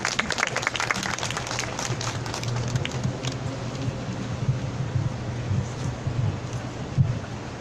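A crowd at an outdoor Wednesday protest rally in Korea claps, with a burst of applause at first that thins and fades into lighter scattered clapping and background murmur.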